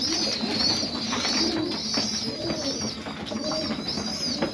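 Highflyer pigeons, crazy reds among them, coo in a loft during a morning feeding, with close chirps and brief wing flaps under constant scattered pecking and rustling.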